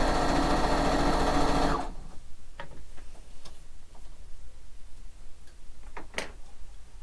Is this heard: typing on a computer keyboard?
no